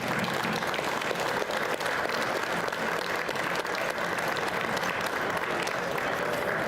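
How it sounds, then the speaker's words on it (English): Sustained applause from an audience at a telecom industry association Q&A session, a steady dense wash of clapping held at even loudness throughout with no speech over it. "Let's give Steve a round of applause."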